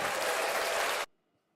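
A burst of crowd applause from a sound effect, dense and steady, cuts off abruptly after about a second into silence.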